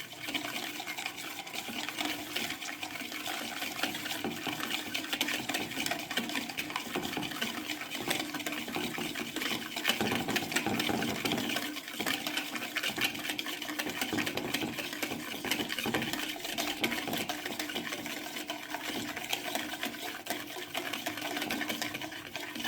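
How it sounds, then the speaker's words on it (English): A coffee mixture whisked by hand in a bowl for frothy coffee, giving a steady, fast, even scraping and swishing rhythm that runs unbroken from start to finish at moderate loudness, with no voices. "The color will start changing as you keep whisking it"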